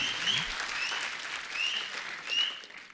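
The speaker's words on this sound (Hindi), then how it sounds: "एक बार जोरदार तालियां संजू पाजी के लिए" A studio audience at a Hindi comedy talk show bursts into loud, sustained applause, swelling in repeated waves of clapping with no talk over it.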